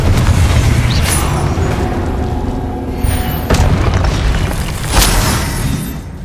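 Fiery spell blasts from the game Hogwarts Legacy boom out in sequence, several sharp explosive bursts roughly a second or two apart over a rumbling in-game ambience.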